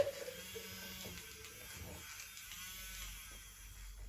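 A small electric coffee whisk whirs steadily while frothing shampoo in a pot, a faint, thin continuous buzz that stutters briefly early on and then runs on evenly.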